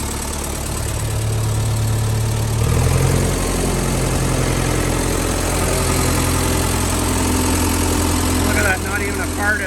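A Massey Ferguson 135 tractor engine idles with a steady, knocking mid-pitched rumble that rises a little early on and holds loud and close for the whole stretch.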